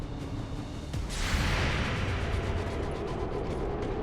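Heavy game weapon fire in XCOM 2 on Ironman Legend difficulty: a sudden loud blast swells into a sustained rumbling roar of booming shots and debris, with no talking.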